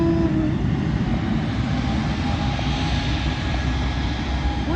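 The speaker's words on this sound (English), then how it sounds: "Clear for takeoff. Delta Airlines 757." A Delta Airlines Boeing 757 airliner takes off at Fort Lauderdale airport, giving a steady, sustained jet engine roar that stays at a constant level for the whole stretch, with no talking.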